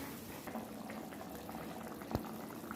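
Rice bubbling at a boil in a pot on the stove in a home kitchen, a steady wash of small bursting bubbles, close and moderately quiet, with one sharp clink near the end.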